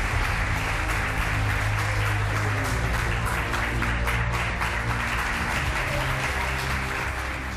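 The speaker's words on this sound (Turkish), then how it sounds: "Hadi alalım kocaman alkışlarla Nedim Bey'i stüdyomuza." Studio audience on a Turkish daytime talk show giving a guest a big welcome, producing loud, dense, sustained applause that carries at full strength throughout before easing slightly at the end.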